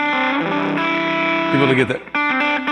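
Distorted electric guitar holding a sustained melodic line with layered effects, loud and continuous, dipping briefly near the end, with someone talking over parts of it.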